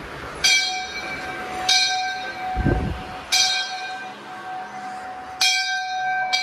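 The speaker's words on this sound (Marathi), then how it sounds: "मस्त घंटी वाजू" Temple bell at the stone-built Kamalai temple, struck four times at roughly even intervals, each strike ringing out with a bright metallic tone and a long sustained hum. There is a brief low rumble in between.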